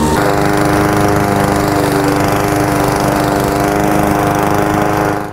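A Toro battery-powered electric self-propelled lawn mower runs close and loud, a steady, even electric whir with a motor hum that holds constant for the whole stretch before cutting off at the end.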